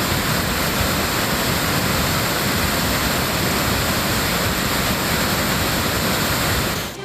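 Kumbakkarai waterfall running in flood after heavy rain, a loud, steady broadband roar of pounding water that fills the whole clip without a break.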